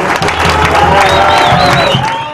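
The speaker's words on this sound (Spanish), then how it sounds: "Un aplauso para este momento." Crowd applause at an Argentine political event with the mayor of Escobar, loud sustained clapping mixed with cheering and a few whoops from many people close by, fading slightly at the end.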